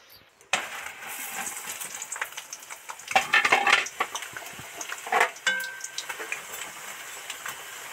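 Potato pakoda bubbling in hot oil during a second deep-fry, a steady crackling sizzle with occasional louder popping bursts, heard close and alone.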